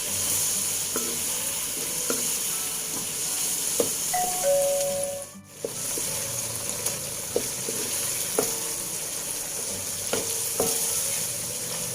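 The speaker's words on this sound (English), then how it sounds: "Now I'm going to add in the prawns and also the fish ball and the fish cake. Stir fry further." Prawns, fish balls and fish cake stir-fried for fried kway teow flat noodles, a steady sizzle with periodic scrapes and taps of a spatula on the pan, plus a brief ringing chime partway through.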